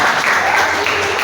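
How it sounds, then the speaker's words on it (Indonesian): Classroom students applauding during a peer-teaching coding lesson, a short steady burst of clapping that stays even and fairly loud throughout. "tepuk tangan sekali lagi buat"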